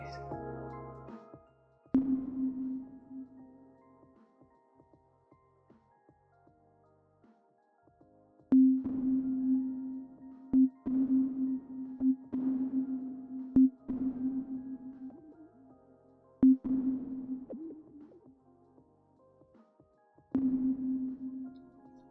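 Short plucked or struck tones repeat in bursts separated by pauses, each trailing into a reverberant tail that starts slightly after the hit.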